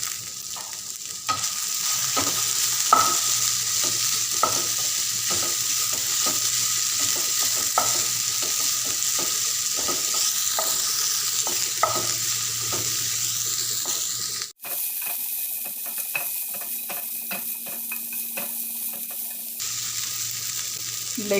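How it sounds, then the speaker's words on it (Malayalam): Curry leaves and green chillies fried in a pan for a Chinese potato stir fry, a loud steady close sizzle with intermittent stirring clicks, briefly interrupted before continuing. "നമ്മൾ ആ എടുത്തു വെച്ചിട്ടുള്ള കറിവേപ്പിലയും നമ്മുടെ പച്ചമുളകും കൂടി ഇട്ട് കൊടുക്കുന്നുണ്ട്."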